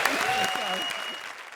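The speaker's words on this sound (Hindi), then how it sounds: "ज्यादा तालियां बजाओ।" A studio audience at a comedy show claps under a speaking voice, the applause steady and fading slightly as the talk carries on.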